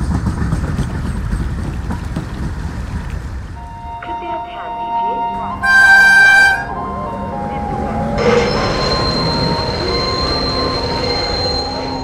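Cartoon train arriving: rumbling wheels and clatter fade into squealing brakes, a bright whistle-like tone, then a hissing stop, loud and close throughout.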